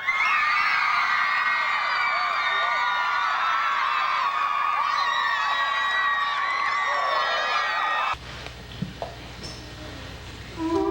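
A large outdoor crowd at the James Dean Memorial Weekend lookalike contest in Fairmount, Indiana cheers and whoops loudly for the winner, a dense sustained roar of shouts that cuts off abruptly into quieter background murmur.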